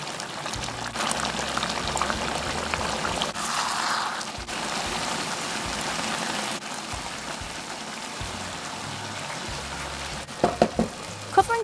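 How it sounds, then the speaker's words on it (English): Kabuli pulao of basmati rice and mutton cooking in a pot, a steady close sizzle and bubbling with scraping stirs through it, ending in a few sharp clanks of the spoon against the pot. "Stir occasionally."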